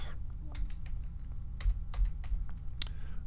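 Keys clatter on a computer keyboard during a modded Minecraft Sky Factory 2 session, a run of irregular, close clicks and taps over a low background hum.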